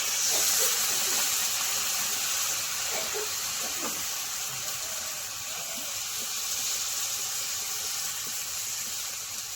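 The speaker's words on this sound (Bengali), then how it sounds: "এবার আমি জল দিয়ে দেবো।" Water is poured into a hot pan of taro and fried koi fish, setting off a steady, loud steaming hiss that holds for the whole stretch, with faint clinks beneath.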